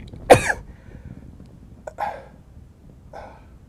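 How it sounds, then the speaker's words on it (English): A sneeze that sounds like a cough, one sharp close burst followed by two softer short throaty bursts spaced about a second apart in a quiet room. "it's actually a sneeze"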